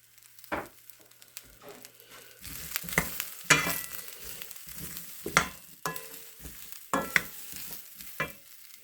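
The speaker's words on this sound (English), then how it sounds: "you have the leftover oil from it, and that will be cooking Brussels sprouts in for the next 6 minutes or so" Brussels sprouts fry in leftover bacon oil in a pan, a low sizzle broken by intermittent stirring scrapes and clatters from a utensil, close and moderately quiet.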